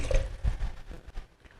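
Half a cup of water poured into yogurt in a home kitchen, producing soft uneven splashing and squishy liquid gurgles, close and moderately loud with no talking.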